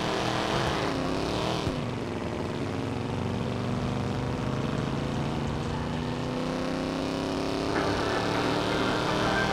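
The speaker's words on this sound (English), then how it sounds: "Wow, listen to that engine." A BMW M3 engine revs hard and loud in the video game Watch Dogs, a steady high-pitched roar that rises and holds with rising harmonic whine and a brief surge near the start, with no talk.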